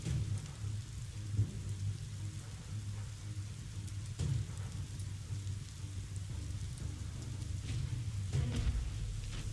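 Steady rain with rolling thunder in the video game Biomutant, a continuous wet hiss over low rumbles that swell near the start, around four seconds and again near the end, with no talk.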